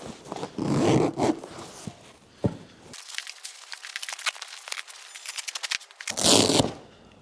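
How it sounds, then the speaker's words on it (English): Zippers being pulled open on the backs of car seat covers during removal, giving a few scratchy zipping runs close by with rustling fabric between them. "There's zippers on the backs of these"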